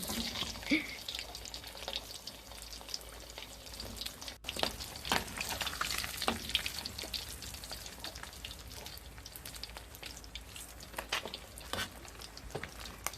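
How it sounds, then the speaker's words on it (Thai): Mackerel frying in leftover hot oil in a home kitchen, a steady broadband crackle and spatter that carries on throughout, with occasional sharper pops and bursts, close and moderately loud with no talk. "น้ำมันเหลือกระทอดปลาทูน้ำอีกสักตัวหนึ่งค่ะ"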